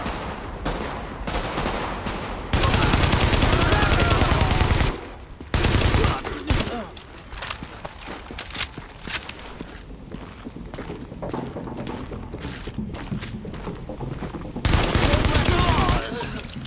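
Gunfire in the video game The Division: long bursts of rapid automatic fire cut in and out, loud and close, mixed with scattered single shots and game sounds.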